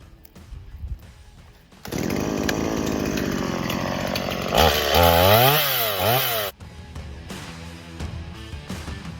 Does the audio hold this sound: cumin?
no